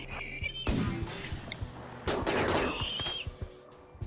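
Sharp bursts of turret and mech gunfire ring out in RimWorld Odyssey, with rapid volleys and isolated shots in close bunches and brief lulls between them.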